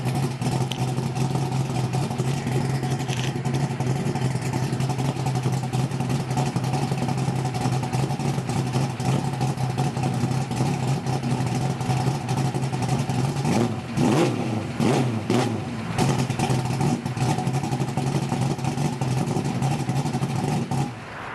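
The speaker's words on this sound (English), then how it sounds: "that's the car. That's what it sounds like." A car engine fitted with a Holley Terminator fuel-injection system revs under steady load, its drone rising and falling through a few sharp throttle blips partway through, loud and close with no talk.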